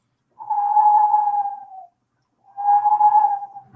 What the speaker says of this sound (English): they have that little type train whistle. And, and you blow on it like that right there.